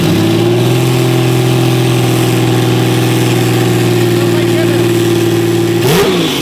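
Custom widebody Porsche 911 RWB with a swapped GT2 engine idling loud and close after startup, a steady deep rumble with a brief blip near the end, voice faintly underneath.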